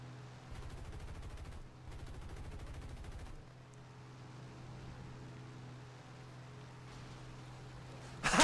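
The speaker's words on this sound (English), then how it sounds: "He's shooting his own teammate!" Aircraft machine guns in the War Thunder combat game rattle in two long rapid bursts over a steady engine drone, followed by quieter distant firing and a sudden loud burst at the end.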